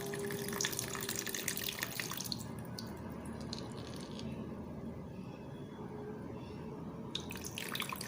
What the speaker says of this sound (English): So right now I'm going to sieve the water.